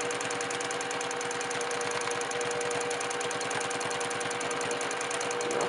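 A sewing machine stitches rapidly and steadily while free-motion quilting a baby quilt, making a close, even mechanical chatter of fast needle strokes with no pauses.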